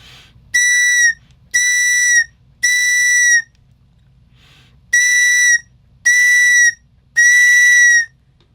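A TOPS survival whistle sounds six piercing, steady blasts close up, grouped as three quick blows, a short gap, then three more, with near silence between them.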